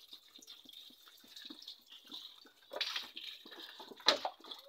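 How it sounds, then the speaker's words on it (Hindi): Water poured from a bottle into a small outdoor guppy pond, a thin faint trickle and splashing that swells near the end with a brief louder splash, heard close and without talk. "एक बोतल डाल ली है पानी की"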